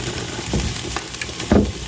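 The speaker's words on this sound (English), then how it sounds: "Uh-oh, our noodles are boiling over here." A pot of noodles boils over on a home stove, giving a soft sizzling hiss with a few brief pops and bursts, close and fairly quiet.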